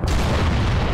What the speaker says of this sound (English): push south away from the explosion